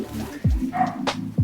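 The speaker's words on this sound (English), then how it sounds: "that's my dog barking" A pet dog barks a few times from somewhere in the house, sharp and fairly close, with a short pause between the barks over a low background hum.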